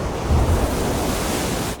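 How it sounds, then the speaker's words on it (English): Strong, building wind and heavy ocean swell ahead of a storm, a loud, broad rushing roar of gusts and surf buffeting the microphone, continuous and close before cutting off abruptly. "That wind is building and there's some big swell coming in."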